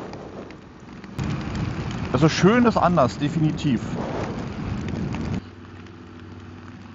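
Steady rain and rushing wind noise surround a rider on a motorcycle tour through Romania toward the Austrian border, a continuous wash that swells midway while someone speaks briefly over it.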